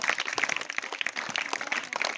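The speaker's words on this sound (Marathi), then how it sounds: "टाळ्या वाजवण्यासाठी सगळे" An audience claps at a school general-knowledge quiz competition at ZPP School Dadhega: a dense, steady patter of many hands held at an even level for about two seconds, with no voices over it.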